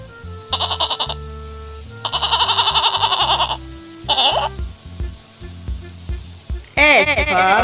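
A goat bleats in a short, sharp bursts, then pauses between cries, close and loud, mixed with other bright toy-like animal sounds in a children's alphabet sequence.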